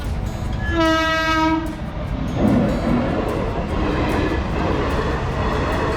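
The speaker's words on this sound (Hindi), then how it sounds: "ट्रेन भी एकदम स्टाइल में निकल गई" At a railway crossing, a train sounds a loud, sustained harmonic horn and then rolls past close by with a continuous rumble and a regular clatter of wheels over rail joints, with no voices.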